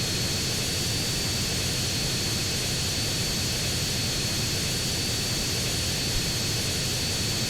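Propeller plane flying in Grand Theft Auto: San Andreas, its engine a steady, loud, unbroken droning roar with a broad hiss that holds level throughout, with no voices.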